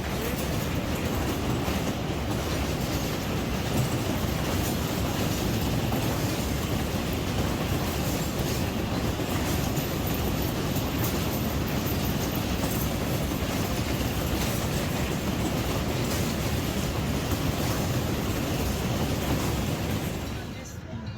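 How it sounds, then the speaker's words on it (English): A train rumbles past an amusement park steadily, a continuous heavy roar with faint clattering of wheels that fades slightly at the end. "There's a train out there."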